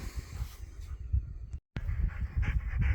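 A dog pants rapidly and rhythmically close by on a sheep farm during lambing, with steady quick breaths broken by one brief gap of silence.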